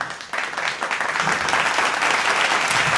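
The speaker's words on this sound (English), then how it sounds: "They just don't stop clapping." A studio audience claps in sustained, building applause, a dense wash of many hands that swells and holds steady at a loud level with no break.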